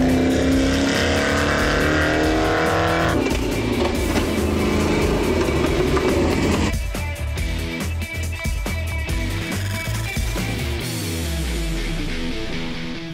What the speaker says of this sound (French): Le moteur tourne au quart de tour.